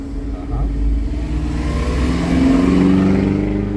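A car engine rises in pitch as the driver accelerates during a city driving lesson, a steady, moderately loud hum heard from inside the cabin with no voices.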